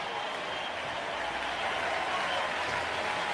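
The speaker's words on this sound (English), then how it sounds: "Listen to this crowd." A large baseball stadium crowd roars and cheers steadily after a home run, a dense wash of distant voices and applause holding at a constant level throughout.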